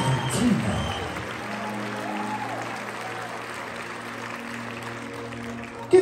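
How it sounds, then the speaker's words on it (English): An audience at a live concert applauds steadily. The clapping is sustained and moderately loud, a broad crowd patter, and a voice briefly speaks near the start. "Give them a round of applause one more time."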